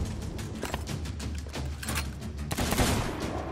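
Rapid bursts of gunfire from the pirate game Sea of Thieves, a dense run of shots with heavier thumps near the end, loud over game ambience with no talk.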